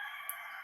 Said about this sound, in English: Rooster's going crazy again.